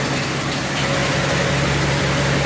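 A 1929 Chevy rat rod engine idles with a steady low rumble and hum, close and fairly loud, with no knocking or pinging and no other sounds.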